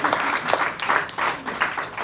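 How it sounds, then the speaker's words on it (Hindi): Clapping from an audience at a Hindi speaking event, heard as uneven bursts that swell and fade in waves over a couple of seconds. "ऐसी मैम के लिए जोरदार तालियां बजनी चाहिए"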